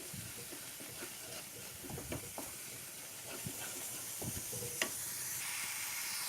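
Chole masala with tomato puree sizzles quietly in a pressure cooker pot while a spoon stirs it, soft scrapes and light taps sounding over a faint, steady hiss of frying.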